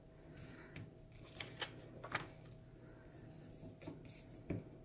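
A pen or chalk marker scratches over a brand-new Chalk Couture transfer laid on metal. The strokes are short and soft, come in separate bursts, and sit close over a faint background hum.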